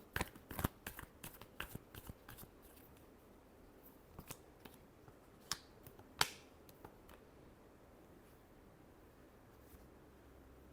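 Tarot cards are shuffled by hand in a quiet room, giving a run of crisp riffling snaps and flicks that thin out into scattered soft taps, close and fairly faint.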